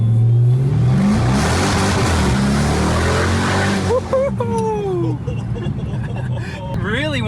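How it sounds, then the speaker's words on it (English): A heavy Dodge Charger police car with modifications accelerates hard with a loud, close engine roar that climbs in pitch. It then eases off, and voices talk over the fading engine. "It's a heavy car, so it's so easy to just rip the throttle."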